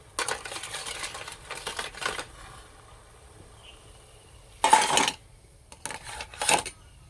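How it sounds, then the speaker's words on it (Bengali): Steamed idli bowls are lifted out of a steamer, with bursts of metallic clattering and scraping separated by quiet gaps; no talking. "এবার বাটিগুলো তুলে নেব।"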